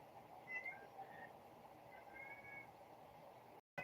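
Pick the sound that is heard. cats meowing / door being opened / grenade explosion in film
cats meowing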